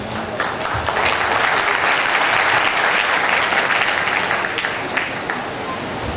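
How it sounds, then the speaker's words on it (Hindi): Loud, sustained applause from a large audience at an event in Nagpur, dense steady clapping filling the room without a break, no speech over it. "जोरदार तालियां।"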